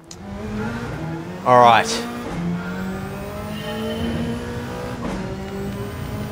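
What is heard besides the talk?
Toyota Supra GT500 race car engine in Gran Turismo 7 (video game)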